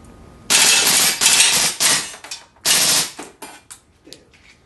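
A GSG 92 pistol fires in full-auto bursts outdoors: several loud rapid strings of shots, the first and longest lasting about a second and a half, then shorter bursts and a few trailing single cracks.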